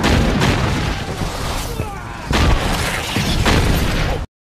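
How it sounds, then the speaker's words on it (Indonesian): Explosion blowing up the hideout in the film Blade Trinity, a loud sustained roaring blast with rumbling bursts and debris, swelling again midway before cutting off abruptly. "lalu meledakkan markas itu bersama dirinya sendiri"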